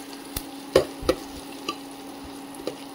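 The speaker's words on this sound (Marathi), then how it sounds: "जिऱ्या भाजून" Cumin seeds sizzle in hot oil for a dal tadka, a steady low frying hiss broken by a few soft clinks of a spoon stirring the pan, with no voices.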